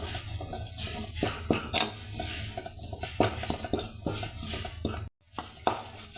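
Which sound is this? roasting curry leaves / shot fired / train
roasting curry leaves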